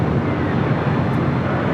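A WestJet Boeing 737-800 airliner passes at LAX, a brief, loud, broadband engine roar rushing steadily without a break.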